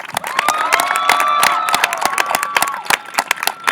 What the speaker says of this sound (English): How about one more round of applause for Estefania and Kaylee?